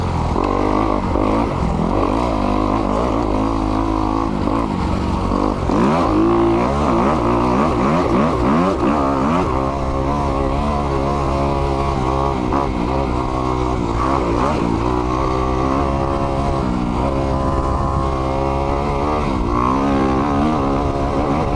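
A 2021 Kawasaki KX 250X dirt bike engine revs continuously while riding, its pitch rising and falling through throttle blips and gear changes, loud and close throughout.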